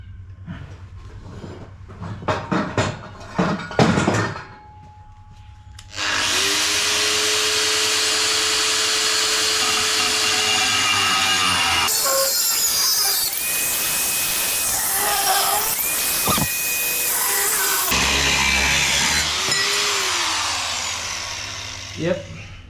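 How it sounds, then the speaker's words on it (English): A motorized hacksaw cuts through metal side exhaust parts on a 1966 Corvette, giving a loud, sustained mechanical grinding and rasping that runs for long stretches after a few clanks and brief noises at the start. "let me go get my little hacksaw here, which is a motorized hacksaw,"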